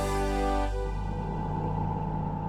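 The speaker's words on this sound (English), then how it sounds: "the completion sound, when the instruments are set correctly, sounds like this" A game's completion chime in a Unity project, played once the instruments are set correctly: a bright sustained harmonic tone swelling at the start, then settling into a steady ringing layer with a soft whirring texture beneath, alone without voices.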